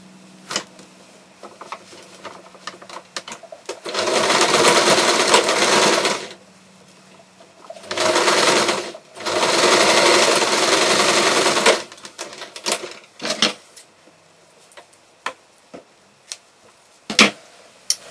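A sewing machine stitches puppet head fabric in three sustained whirring runs of several seconds each, with scattered clicks and fabric handling before, between and after.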